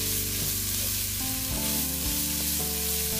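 Carrots and cabbage fry steadily in a pan, a continuous close, loud sizzle with shifting tones as the vegetables settle, no voices over it.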